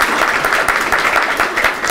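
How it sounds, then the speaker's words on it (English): Loud, sustained audience applause at a Rhodes Scholarship workshop, an even roar of many hands clapping close by with no break. "A round of applause."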